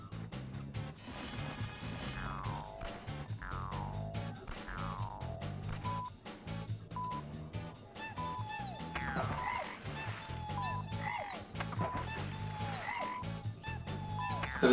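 Frogs croak repeatedly in the Blues Brothers 2000 video game, a loud rhythmic chorus of game croaks over a looping musical backing, with quick chirpy effects sliding in throughout and no voices.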